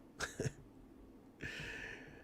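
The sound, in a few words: cough into elbow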